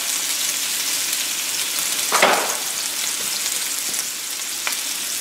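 Pork sears in a hot pan, a steady close sizzle and crackle of frying with a brief burst of louder spitting midway, no voices.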